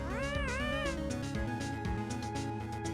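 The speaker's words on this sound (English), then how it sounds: "Cat." A cat in the video game Ace Attorney gives a rising, wavering meow over a busy musical background, clear and prominent.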